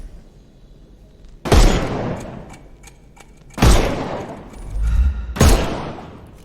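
Three separate heavy gunshots blasting at enemy armour in a Sherlock Holmes adventure game, each a loud sharp crack with a long decaying tail, spaced about two seconds apart over quiet background.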